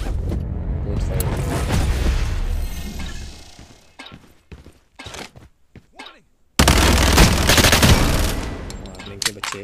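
Gunfire in the mobile shooter Lost Light: bursts of automatic fire and single shots, loud and close, with a quieter stretch of scattered shots before a heavy sustained volley resumes.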